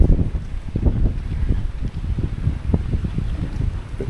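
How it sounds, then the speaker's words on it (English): Strong wind buffeting the microphone on the Cala Bona seafront in Mallorca, a steady low rumble with gusty thumps throughout and no speech. "Bit breezy"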